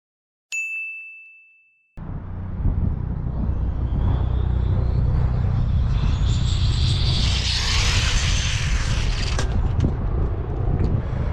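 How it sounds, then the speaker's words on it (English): A car engine revving hard while spinning and shredding a tire, a loud, sustained roaring drone that climbs in pitch and builds into a gritty scrubbing rush, preceded by a single bright ding chime. "I'm shredding a tire. There's a lot of power here."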